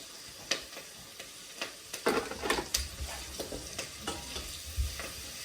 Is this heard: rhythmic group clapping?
no